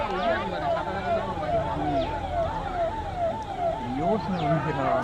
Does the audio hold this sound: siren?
yes